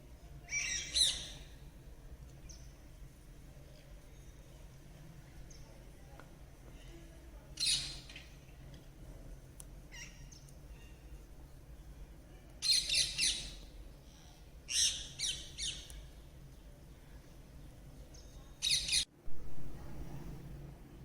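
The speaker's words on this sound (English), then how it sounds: "Today all the parrots in the area seem to be around my house." Parrots squawk in loud, harsh bursts around a house, several separate calls spread across the span with quiet gaps between them and no one speaking.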